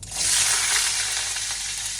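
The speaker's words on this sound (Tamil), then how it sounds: "கடுகு வடிக்கட்டும்" Mustard seeds splutter and crackle in hot oil in a home kitchen pan, a dense continuous sizzle that holds steady for about two seconds with no talk.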